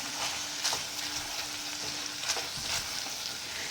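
Vegetables being stirred in a pan with coarsely pounded sesame and peanut powder, a steady soft sizzle with scraping stirs throughout, close and alone.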